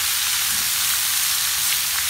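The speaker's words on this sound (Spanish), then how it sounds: "Esto se tiene que sofreír bien." Chopped onion, garlic and pepper sautéing in a pan, a continuous close sizzle that holds at an even loud level throughout, with nobody talking.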